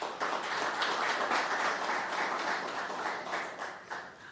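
Audience applause at a Zimbabwe Premier Soccer League sponsorship unveiling, a fairly faint, steady wash of clapping from a crowd that swells and eases over a few seconds.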